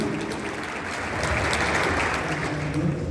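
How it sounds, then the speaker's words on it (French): Applause from the audience at a gala trophy ceremony, a steady wash of clapping hands that swells slightly partway through and holds for a few seconds. "Un tonnerre d'applaudissements pour notre cher consul de Pontoise, Monsieur Salah Louis."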